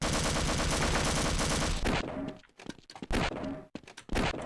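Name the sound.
MP5 gunfire in FreeCS video game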